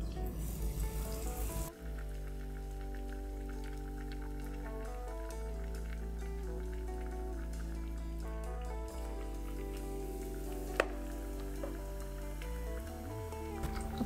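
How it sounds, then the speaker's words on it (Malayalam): Bread pakora dipped in batter and frying in hot oil, a steady bubbling sizzle under a constant low hum, with a brief louder clatter at the start and a sharp click near the end. "അതിനുശേഷം നമുക്കിത് എണ്ണയിലോട്ട് ഇട്ട് കൊടുക്കാം"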